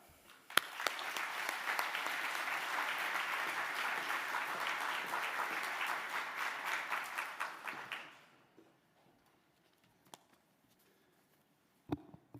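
Audience applause welcoming a speaker at an engineering hard hat ceremony: dense, steady clapping from a crowd lasting about eight seconds, then fading out to near silence with a couple of faint thumps.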